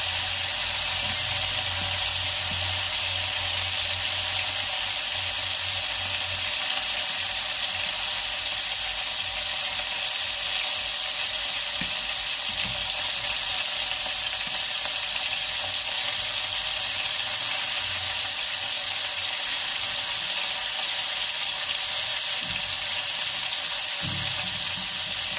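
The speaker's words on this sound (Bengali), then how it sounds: "হালকা করে মাথাটা ভেজে নেব" A bhola fish head rubbed with salt and turmeric fries in hot oil, making a loud, steady sizzle and hiss that never stops. Now and then a soft low bump or clatter sounds beneath it.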